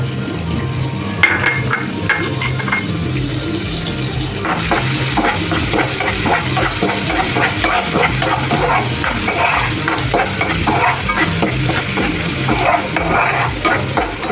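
Onion frying in oil in a pan as the base for a spiced bottle gourd dish, a steady close sizzle with stirring scrapes throughout, getting busier after the first few seconds.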